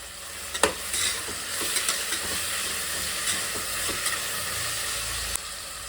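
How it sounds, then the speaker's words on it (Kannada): Green peas frying and being stirred in oil alongside coriander and mint for rice bath, a constant close sizzle broken by scraping spoon strokes and a few sharp clatters against the pan. "ಇದನ್ನು 1-2 ನಿಮಿಷ ಎಣ್ಣೆಲಿ ಚೆನ್ನಾಗಿ ಫ್ರೈ ಮಾಡೋಣ. ಹಸಿ ಬಟಾಣಿ ಹಾಕ್ತಾ ಇದ್ದೀನಿ."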